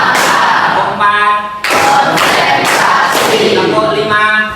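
A school class of ninth-graders claps together in counted groups, sharp unison bursts of hand claps separated by a teacher's chanted counting, loud and close in a classroom.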